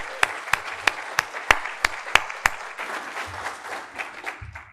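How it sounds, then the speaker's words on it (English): A conference audience at a programming event applauds in a short round, opening with a series of sharp, evenly spaced nearby claps before scattered lighter clapping trails off and thins out. "we could all just do a quick round of applause to thank all the organizers and attendees that have made RailsConf happen"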